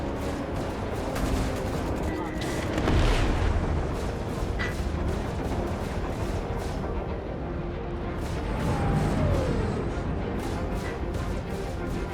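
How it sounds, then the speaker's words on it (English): A missile explosion in the space combat game Star Citizen booms amid a continuous wash of loud ship weapon fire and engine rumble, with a heavier burst standing out partway through. "missile finished him off"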